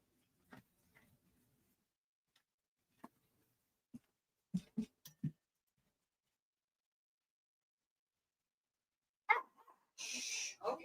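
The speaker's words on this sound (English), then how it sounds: "You don't need to bark at everybody." A dog barks in several short, separate bursts in a quiet room, sharp and fairly close, with a longer noisy burst near the end.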